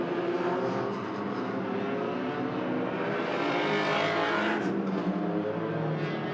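Hornet class race cars lap a roval circuit at a speedway during an enduro, engines droning loudly and continuously as the cars pass, with the pitch rising and swelling toward the middle as one car comes close.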